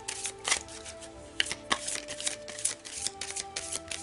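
A deck of Oracle du Chaos oracle cards is shuffled by hand up close, giving a quick run of papery riffles and flicks in uneven bursts with no voices.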